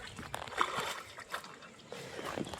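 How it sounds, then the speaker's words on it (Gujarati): Water splashes and sloshes irregularly as someone swims in a small pond in a farm field after the rains, with bursts of churning close by and brief lulls between strokes. "હવે હું તરું"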